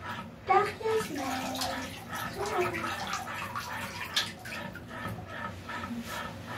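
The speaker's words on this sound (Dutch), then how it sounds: "Ik wil gewoon de kraan aan." A tap runs water into a bathtub with a dog in it, a close splashing rush beneath a child's chatter and other voices speaking Dutch.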